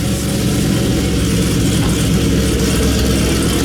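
Chevrolet Camaro ZL1 with a Stage 1 camshaft idles steadily in a chilly shop while warming up, a loud, continuous low rumble that holds an even, throbbing pulse throughout.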